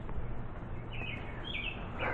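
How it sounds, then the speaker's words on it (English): Birds chirp outdoors in a few short, thin calls at moderate distance, heard over a steady background hiss of open air. "Lots of birds doing their thing."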